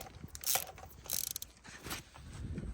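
Ratchet wrench clicking in quick bursts while loosening spark plugs on a Dodge 3.5 V6, a close, dry pawl ratcheting with short pauses and faint mechanical shuffling between strokes.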